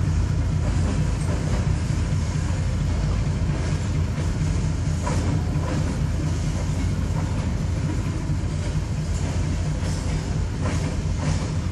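A loaded freight train of mixed cars painted with graffiti rolls steadily past, a continuous loud rumble with faint rhythmic wheel clatter and no talk.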